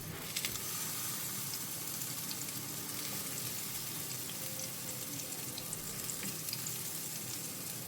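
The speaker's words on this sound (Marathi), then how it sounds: "सो एक एक घालता हांव आनी हें बरें फ्राय करून घेवया" Vegetable pieces for a side dish fry in hot oil in a pan, giving a dense, continuous close crackling sizzle with faint clicks as pieces are added and moved.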